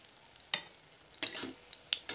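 Sakrali pitha frying in hot oil while oil is spooned over the top, heard as a quiet sizzle broken by a few distinct scraping and splashing strokes at irregular intervals; no voices.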